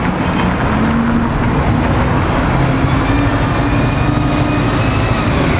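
A Red Arrow bus drives past on a Derby street, a steady, close engine rumble and road roar that holds at an even level from start to finish.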